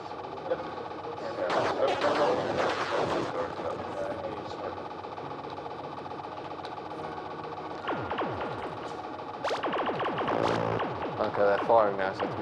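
Gunfire in a Llamasoft video game plays in quick bursts of sharp, chaotic shots and electronic effects, heard under someone talking over the game.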